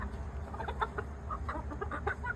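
Hens and a rooster on a farm cluck softly and repeatedly in a faint, continuous patter of short calls, with no one speaking.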